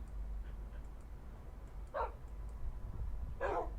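Tamed wolves in Minecraft give two short, sharp barks about a second and a half apart, fairly faint over a low background hum, with no talking.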